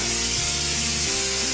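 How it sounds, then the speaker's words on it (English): An aerosol spray can, like bug spray, hissing in one continuous loud blast at close range, with no talking. "Looks like bug spray."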